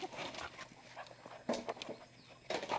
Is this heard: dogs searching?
yes